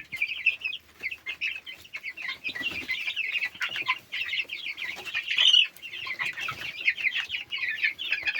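Three-week-old chicks peep and cluck nonstop in a busy, high-pitched chorus, close and fairly loud, with occasional soft scuffling.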